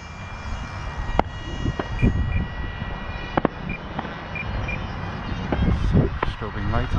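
An E-flite Draco RC airplane flies slowly over a runway, its electric motor droning steadily with a few sharp ticks and bumps, while a person talks over it at intervals.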